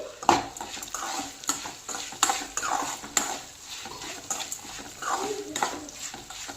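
Coconut rice ingredients, including salt and grated coconut, frying in a pan while being stirred: repeated scraping and clinking strokes over a soft sizzle, with a voice talking at times.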